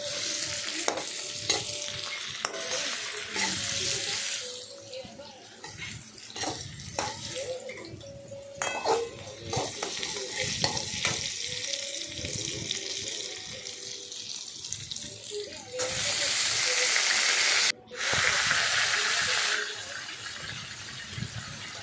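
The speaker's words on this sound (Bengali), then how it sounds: "এবার সেটাকে ভালো করে ভাজতে হবে।" Water spinach stalks fry in a pan, a loud continuous sizzle broken by scraping stirs and clatters, swelling into a bright hiss near the end with a brief dropout; no voices.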